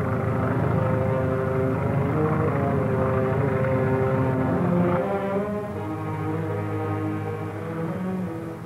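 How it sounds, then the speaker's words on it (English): A 1940s propeller airplane drones overhead, a loud sustained engine hum with steady harmonic tones that dips slightly as it passes, heard alone without voices. "Hear that plane?"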